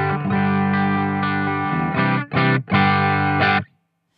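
An electric guitar plays sustained clean chords through a Boss OC-5 octave pedal, ringing thick and layered, with a few short choppy strums before cutting to silence.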